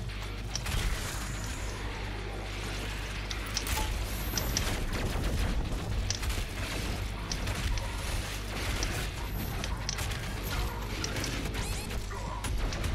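Rapid chain gun fire in DOOM Eternal, a dense continuous rattle of shots with crashes and mechanical clatter layered throughout, loud and sustained.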